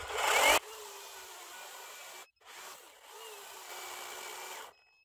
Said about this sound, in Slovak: No a píla už začína pomerne celkom rýchlo zastavovať